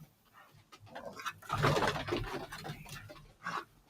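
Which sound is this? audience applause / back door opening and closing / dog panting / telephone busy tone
dog panting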